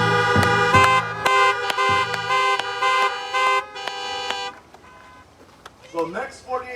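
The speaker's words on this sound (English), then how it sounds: "If you believe that, honk your horns" Car horns honk at a rally, several loud overlapping blasts in quick bursts for about four seconds, then fading as a crowd cheers and voices call out.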